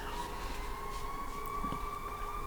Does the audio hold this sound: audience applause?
no